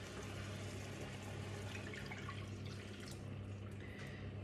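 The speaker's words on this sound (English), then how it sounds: "I'm going to swirl out the last of the juices with some extra water." Water swirls around a frying pan holding leftover meatball juices, a soft, continuous sloshing and trickling close by with faint drips, no talking.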